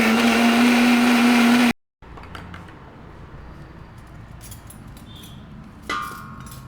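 A kitchen blender grinds soaked rice into neer dosa batter, a loud high whirring roar that cuts off abruptly after under two seconds, followed by quiet clinks and small handling noises.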